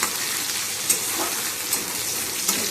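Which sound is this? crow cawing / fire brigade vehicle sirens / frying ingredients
frying ingredients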